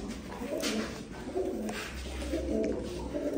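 Pigeons coo softly in a repeated, rounded rhythm, close by but at a modest level over a low background murmur with hints of distant movement.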